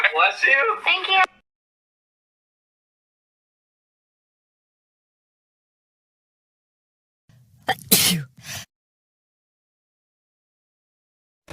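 Cartoon characters Marinette and Lila sneeze: a short spoken line comes first, then after a long silence one sharp, loud, close sneeze bursts out.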